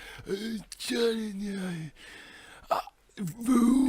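A voice imitating someone with constant indigestion: a string of croaky, belching groans and hiccup-like gulps, several drawn-out strained tones broken by short gasps, close and fairly loud.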